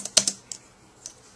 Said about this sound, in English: you type in Gmail Notifier